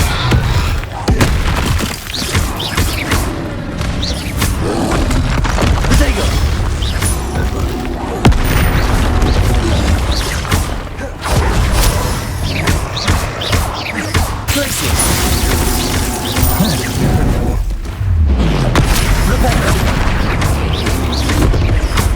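Spells including Flipendo, Expelliarmus and Glacius fire off in the Hogwarts Legacy video game, a dense barrage of loud booming blasts and crashes throughout, with occasional talk mixed in.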